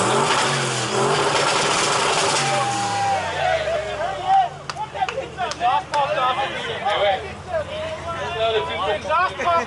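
Car engine revving hard with loud exhaust pops and crackles during an amateur exhaust sound contest, the engine roar dominant at first, then sharp bursting pops over a rough idle while people talk and shout nearby.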